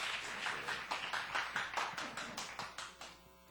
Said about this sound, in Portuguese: que a igreja de Vila Isabel receba com uma calorosa salva de palmas a Cristo.